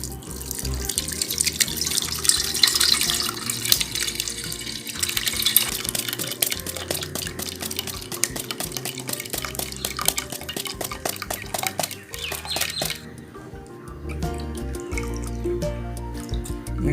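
Boiled banana wine mixture pours and splashes through a strainer, with steady trickling and dripping, scraping and stirring against the vessel, and clinks of utensils over about seventeen seconds without talk.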